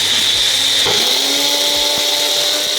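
Electric grinder steadily whirring as it grinds chili garlic paste for noodles in a home kitchen, a loud continuous motor drone with a faint rising tone, running alone without talk.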